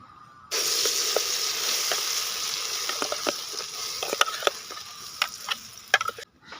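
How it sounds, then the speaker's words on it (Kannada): Banana paste sizzles in ghee in a pan for halwa, a steady hiss starting abruptly, with scattered scraping and tapping of a spoon stirring it, close and moderately loud. "ಚೆನ್ನಾಗಿ ಇದನ್ನು ಫ್ರೈ ಮಾಡಬೇಕು"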